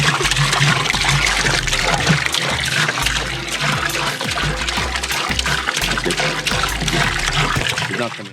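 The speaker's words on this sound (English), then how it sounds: "I'm just gonna pour it all in here, and I'll put the lid on" Liquid poured into a pot beside a propane burner, a steady splashing and trickling stream that runs loud and continuous, with low bumps and rumbles underneath.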